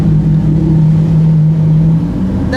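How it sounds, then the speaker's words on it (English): W Motors Fenyr supercar at the Goodwood hill climb, heard from inside the cabin: a loud, steady mid-pitched engine drone that holds a constant note for about two seconds, then eases slightly. "here inside the W Motors FENYR after a run up this such famous course track, the hill climb at Goodwood"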